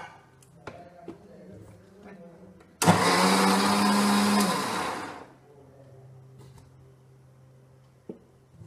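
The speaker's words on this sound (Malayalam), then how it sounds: "മിക്സി ചൂടാകാതിരിക്കാനായിട്ട് തണുത്ത വെള്ളം ഉപയോഗിച്ചാണ് ഉഴുന്നും ഗോതമ്പ് പൊടിയും അരക്കുന്നത്." A kitchen mixer grinder whirs loudly as it grinds soaked urad dal and wheat flour with cold water, a single burst of about two and a half seconds between quieter stretches of low background noise and faint knocks.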